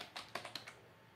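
Quick, light keystrokes on a computer keyboard: about six soft clicks in a short burst, close and quiet, then stillness.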